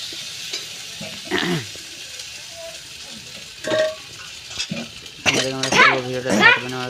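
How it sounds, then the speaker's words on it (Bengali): Spice masala is stir-fried in a pan for a Bengali potato, neem leaf and dal meal, with scattered scraping stirs and metal clatter over a quiet sizzle, then voices talking near the end. "এখন মশলাটা মশলাটা কষে নিলাম"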